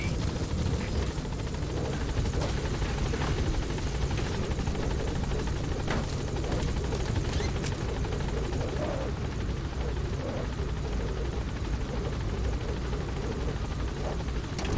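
Helicopter in the video game Metal Gear Solid V: The Phantom Pain, a loud steady rotor thump and turbine whine held throughout as it arrives at a landing zone and lifts off, with no voices heard.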